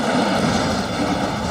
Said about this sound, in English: there is the rumble of 800 to 900 horsepower times 30